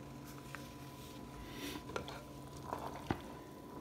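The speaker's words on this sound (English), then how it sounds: "Stir that pasta." A spoon stirs pasta in a simmering pot on the stove, giving a steady soft bubbling and frying-like hiss with a few light scrapes and knocks against the pot, close and alone.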